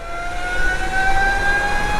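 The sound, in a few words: Burromax HRS electric pit bike riding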